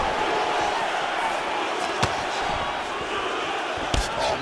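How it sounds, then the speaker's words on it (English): A steady roar from an arena crowd fills a UFC 4 video game fight between Conor McGregor and Jorge Masvidal, with sharp impact thumps cutting through the constant cheering. "Crowd is like just reacting every time he moves."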